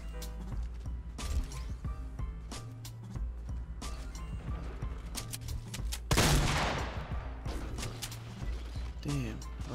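Desert Eagle pistol gunfire in a shooter video game, scattered sharp shots and mechanical clacks among game sounds, with a louder crashing burst midway, fairly close.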